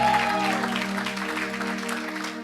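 A church congregation applauds during worship, a sustained wash of clapping with crowd murmur and a tonal hum beneath it that tapers off toward the end.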